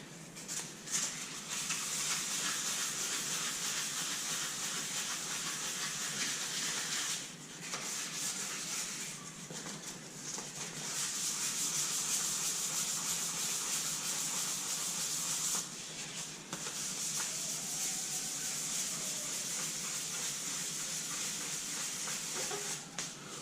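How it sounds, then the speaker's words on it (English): Steady, hissing abrasive dry sanding of sandpaper on a primed metal Honda CBR250R MC19 fuel tank, continuous strokes with a few brief pauses, close and fairly loud. "I'm dry sanding because I don't want the hassle of having to wait for the tank to dry out."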